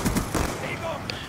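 Gunfire from a weapon in the multiplayer video game Black Ops II sounds in a few quick sharp bursts at the start, then gives way to softer game sounds and a brief high tone.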